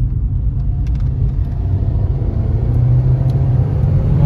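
SEAT Ibiza 1.2 TSI, tuned from 90 to 140 hp in Stage 1 form, pulls uphill in second gear, giving a loud, steady low engine drone and rumble heard from inside the car.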